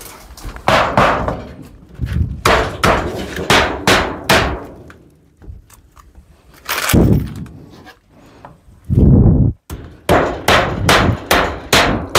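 Repeated sharp hammer blows while building a bathroom from ulin ironwood, bursts of rapid strikes with short pauses between, loud and close, plus a brief scraping thump near the end.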